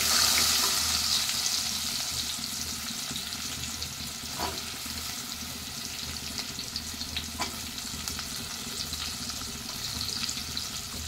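Chopped onions and tempering seeds frying in oil in a pan while making an egg, capsicum and tomato masala curry, a steady close sizzle with occasional stirring scrapes and no talk.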